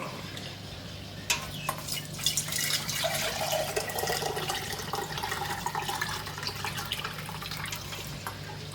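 Lemon juice poured from a container into measuring cups in a home kitchen, a steady splashing trickle broken by a few drips and clinks, moderately close.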